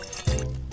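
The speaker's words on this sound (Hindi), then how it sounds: "एक सॉसपैन में थोड़ा पानी डालें" Water pours briefly into a saucepan, a short low gush of liquid lasting under a second, close up with no talk.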